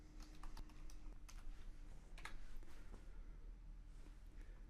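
Quiet, quick typing on a computer keyboard, a steady stream of light clicking keystrokes with short pauses, close and alone.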